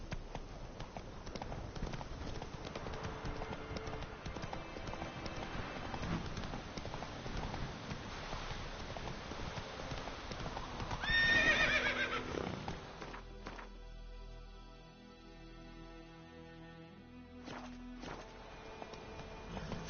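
Horse hooves clip-clop at a gallop in The Witcher 3 video game, a steady rapid drumming under game music, with a loud neigh midway before the hoofbeats carry on more sparsely.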